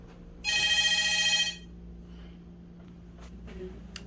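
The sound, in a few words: hotel room telephone ringing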